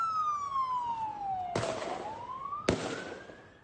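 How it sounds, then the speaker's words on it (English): A police car siren wails as it passes, its pitch sliding down and then climbing back up, broken by two sharp, loud bangs. "a police car with sirens blaring drives past."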